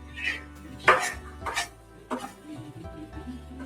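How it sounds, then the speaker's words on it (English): Steak for a garlic parmesan recipe is tossed into a pan with clanking metal knocks and scrapes, a few separate clatters close by over a low kitchen hum, without talking. "And then now we toss that in the pan."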